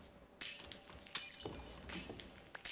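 Minecraft glass blocks shatter one after another under an Efficiency 5 tool, three or four crisp, bright breaks spaced about half a second to a second apart, clear and alone with no talk.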